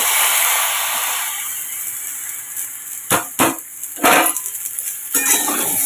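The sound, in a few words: ridge gourd added to frying potatoes in a pan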